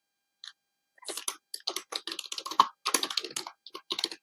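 Python code being typed on a computer keyboard, heard as close, crisp, irregular bursts of keystrokes separated by short pauses.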